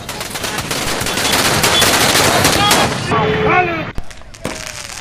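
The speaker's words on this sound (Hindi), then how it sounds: "पटाखे भी जमकर फोड़े गए" Firecrackers set off by celebrating Congress party workers at a town square, a loud, dense, rapid crackling barrage that runs for about three seconds, then thins to a few scattered bangs as voices shout over it.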